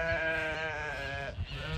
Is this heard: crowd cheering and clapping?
no